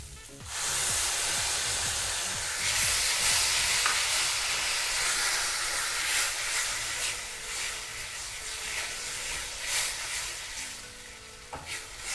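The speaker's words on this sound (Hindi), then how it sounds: "अदरक लहसुन थोड़ा सा फ्राई हो जाए" Ginger garlic paste frying in a pan: a steady, loud sizzle with a hissing wash that runs throughout, broken by occasional scrapes and clinks of stirring.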